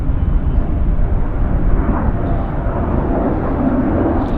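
A Lufthansa Boeing 747-400 at Vancouver Airport gives off a steady, loud, broadband jet roar with a deep low rumble that holds evenly throughout, and no other sounds stand out.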